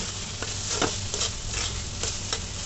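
Greens and dried shrimp stir-fried in a pan, a continuous close sizzle with rhythmic spatula scrapes and stirs repeating every half second or so.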